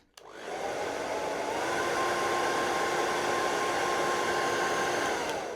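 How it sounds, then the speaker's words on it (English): A hair dryer switches on with a click and blows steadily, a loud close whooshing roar with a whining tone on top. "Now that's all done, we get our hairdryer,"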